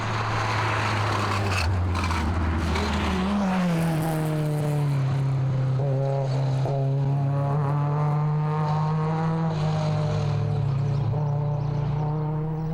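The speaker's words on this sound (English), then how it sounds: "The only alternative, a 7-kilometre drive on 3 wheels" A Targa rally car limping on three wheels drones along with a steady engine note that climbs and shifts pitch, loud and close, with mechanical rattles and clunks over a continuous roar.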